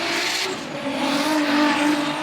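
A drift car powered by a Nissan VQ30 engine screams past at a drift competition in Vladivostok, its tires squealing in a continuous harsh wail over a steady engine roar, loud and sustained throughout.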